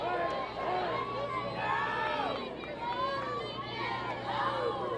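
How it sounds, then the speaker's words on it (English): A college baseball team crowds the stands at a college softball tournament game, whooping and shouting rowdily in overlapping, rising calls and chatter, loud and continuous, picked up by a crowd mic. "You can hear on our crowd mic the Bryan College Lion baseball team really getting rowdy."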